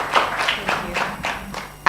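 At an annual stakeholder conference session, a brief spell of audience clapping comes through as a handful of evenly spaced, fairly close claps in a quick rhythm, ending abruptly.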